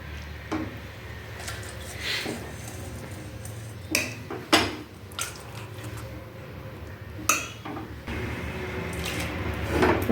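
Water drips and splashes into a sink as water is drained from cooked spinach greens, with soft clatters of a pot and utensils and a few sharper clinks, in a quiet kitchen.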